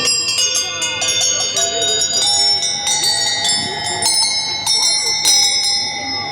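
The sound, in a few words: small bronze bells ringing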